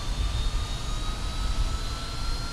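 Fokker F28 jet engines in Microsoft Flight Simulator give a loud, constant roaring rumble with a thin high whine running through it, steady and unbroken throughout.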